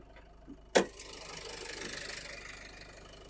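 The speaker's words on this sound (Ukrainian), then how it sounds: "двигун працює рівненько, не кидає" A 2012 Renault Koleos 2.0 dCi diesel engine idles steadily with a low, even rumble after a sharp click, running smoothly with no stumbles.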